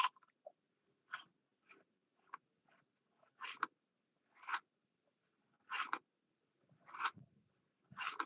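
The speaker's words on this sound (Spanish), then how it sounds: "Cuando se muerde un trozo de pan a la brasa, se escucha un sonido muy característico." Crunchy grilled bread bitten and chewed up close, with a series of short, crisp crackling crunches at irregular intervals and quiet pauses between them, no talking.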